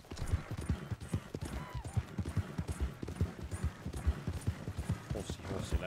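Horse hooves clip-clop in a steady, close rhythm throughout a ride in Red Dead Redemption 2, with game ambience underneath.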